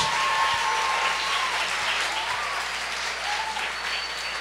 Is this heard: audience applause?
yes